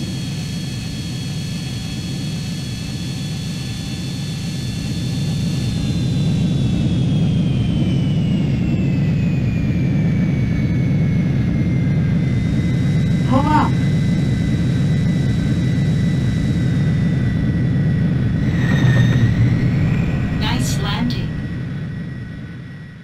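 A fighter jet engine from Ace Combat 3 on landing makes a loud, steady roar with a high whine. It swells after the first few seconds and holds, and brief voices break in near the end.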